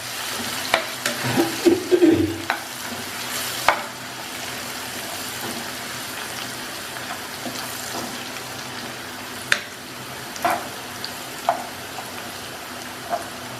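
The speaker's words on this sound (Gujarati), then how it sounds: "હવે આ બધી સામગ્રીને થોડીવાર માટે સાંતળી લઈશું" Ground dried seeds and cumin mixture being sautéed in a pan, a brief burst of stirring and soft frying crackle near the start, then a low steady sizzle with occasional scrapes of the spoon against the pan.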